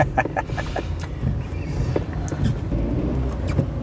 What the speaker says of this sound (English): We've passed 2 cars.